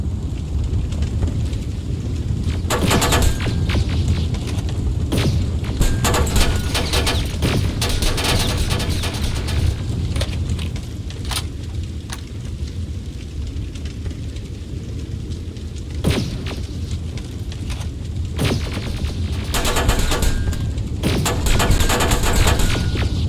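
Sustained gunfire in Terminator Resistance: rapid automatic bursts and heavy booms crackle almost without pause for over twenty seconds, loud and dense, with occasional dull explosions in the mix.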